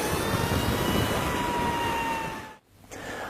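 An LS-218 electric motorcycle accelerates under throttle with a loud rising whine and wind roar that holds steady, then cuts off abruptly before resuming more quietly.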